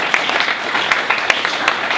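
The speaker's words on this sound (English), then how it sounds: "Give him a round of applause." Audience applause for a contestant at a holiday pitch competition, steady crowd clapping throughout at moderate distance, with no talking over it.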